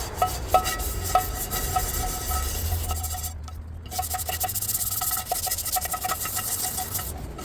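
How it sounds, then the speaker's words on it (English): Small scrub brush scrubbing algae out of a garden bird bath makes close, steady bristly rubbing in a continuous back-and-forth rhythm, with a few sharper scrapes and a short pause midway. "next we want to use a nice little scrub brush and scrub all this out"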